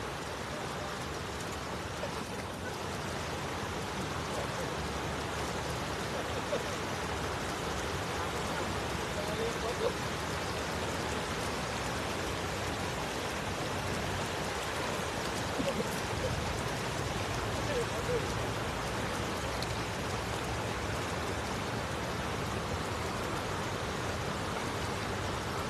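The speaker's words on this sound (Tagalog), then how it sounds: "Hindi pa naulan, ambon lang yarn." Light drizzle patters steadily outdoors during net fishing, a soft continuous hiss with faint trickling water, under occasional low voices throughout.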